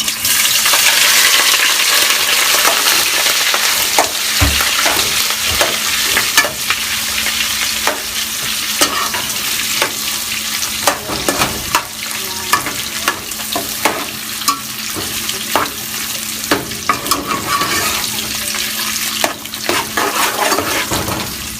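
Steady loud sizzling of sausage frying in a pot, with frequent scraping and clinking of a utensil stirring it.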